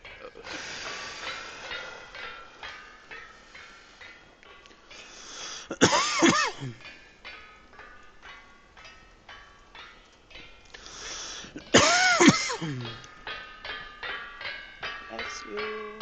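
Two sharp sneezes, one near six seconds and one near twelve, burst out over steady background music and game sounds during casual online play.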